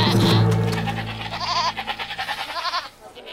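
A goat bleats loudly and close, a wavering, quavering cry that trails off in pulsing vibrato over about three seconds.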